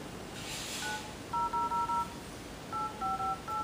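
Samsung Galaxy Nexus I9250 phone dialer keypad producing DTMF dial tones, two quick clusters of short beeping tones, about four tones each, clear and close over a faint hiss.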